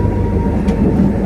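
A train at a railway station rumbles loud and close with a heavy, steady low drone. Faint rattling of the rail cars runs through it.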